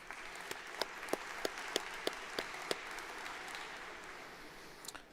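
A commencement audience applauds, faint and distant steady clapping with a few sharper individual claps standing out.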